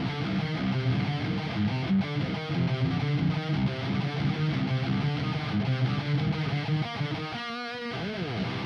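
A heavy, distorted electric guitar in drop C tuning chugs through a low, driving riff with dense, saturated tone, playing alone without any voices.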